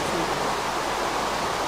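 Flowing water from the video game Minecraft, a steady, even rush of noise like a small waterfall, continuous and fairly loud with no other sounds.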